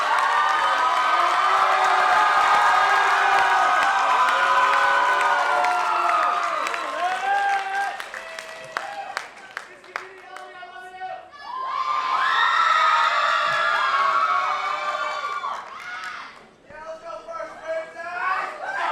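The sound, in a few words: audience applause and cheering for pageant royal court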